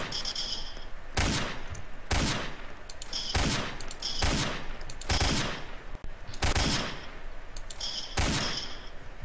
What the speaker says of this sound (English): Try to shoot his arm. Snipe him and let's go.